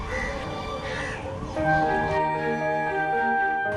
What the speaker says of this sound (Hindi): छत पर बैठे कौवे की कांव कांव